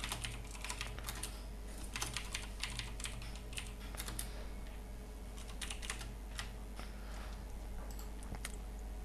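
Rapid, irregular keystrokes clatter on a computer keyboard while a Java program is written, with soft close clicks in bursts and short pauses and no voice.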